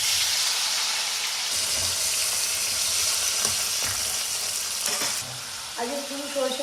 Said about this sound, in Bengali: এবার মশলা কষে ছকে দেব